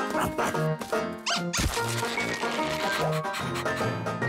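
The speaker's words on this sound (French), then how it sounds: "Méchant chien!" Cartoon dog from the animated series Ben and Holly's Little Kingdom, short squeaky yelps and barks mixed with playful music and quick sound effects, close and lively.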